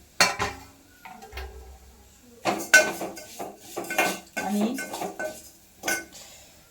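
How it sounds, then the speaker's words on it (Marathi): Vermicelli is roasted in a spoonful of ghee in a pan until brown. A metal spoon scrapes and clinks against the pan in close, irregular bursts with short quiet pauses between strokes. "मग हे शेवया भाजून घ्यायच्या ह्या अशा ब्राऊन कलर येईपर्यंत"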